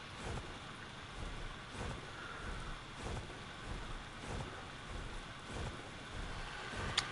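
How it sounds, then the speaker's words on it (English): Steady rain hiss with low rumbling thunder in the survival game Ark Survival Ascended, a continuous stormy wash with soft rolling swells and no voices. "Is that rain?"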